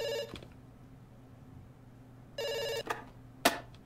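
An old-fashioned telephone rings in the video game Dr. Langeskov, with two loud electronic bursts of ringing separated by a long pause, followed by a couple of short clattering knocks.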